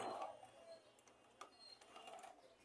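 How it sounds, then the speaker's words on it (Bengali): A new hand-turned sewing machine, just fitted with its wheel, ticks and whirs faintly with light mechanical clicks in a quiet room. "এখন আমরা ঘুরিয়ে দেখছি মেশিনটা কেমন ঘুরছে"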